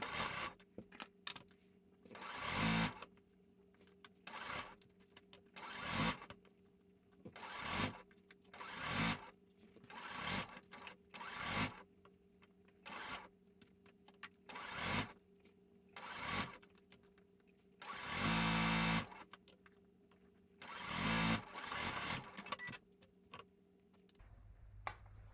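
A sewing machine stitches a sleeve into a garment in short repeated bursts, each run of rapid mechanical ticking separated by brief pauses, close and clear with no talking.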